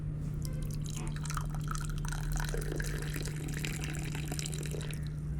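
Purple tea poured outdoors, a steady liquid trickle and splash into a cup, close and continuous over a low background hum.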